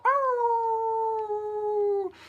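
A person imitates a wolf howl at the close of a morning meditation broadcast, one long sustained tonal howl that swells, holds steady for about two seconds and then breaks off, loud and close with no talk.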